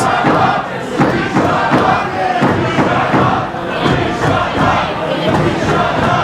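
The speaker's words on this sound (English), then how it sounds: "Crowd telling them what they really think of Young Myles" A loud wrestling crowd jeers and shouts at wrestler Young Myles during a live independent show, a dense, continuous roar of many voices filling the hall.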